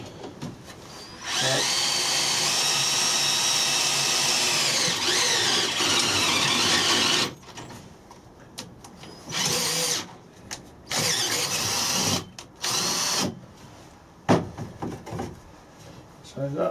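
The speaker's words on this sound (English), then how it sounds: "so I'm going to drill it dead centre." A power drill whirs steadily for several seconds while drilling a hole in greenhouse staging, then cuts in and out in short bursts, loud and close, with brief pauses between.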